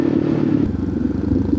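A 1000cc motorcycle engine passes on a mountain road ride, a loud, close roar that drops to a lower, rougher growl partway through the brief moment.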